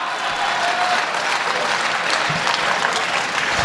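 An audience at a Hindi comedy poetry gathering (hasya kavi sammelan) in Pali claps steadily, a dense, even wash of applause throughout with no voices on top.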